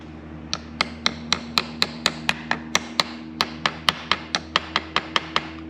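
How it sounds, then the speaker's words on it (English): A rubber screwdriver handle taps a go-kart flywheel key into place, making about twenty sharp, evenly spaced knocks in a steady rhythm, close and clear over a low background hum. "Tap it into place because you don't want to beat on it with the hammer"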